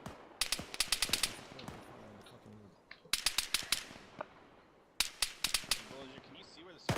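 Gunfire in a military squad training game, heard as three clusters of sharp, cracking rapid shots a couple of seconds apart, with fainter pops and battlefield noise between the bursts.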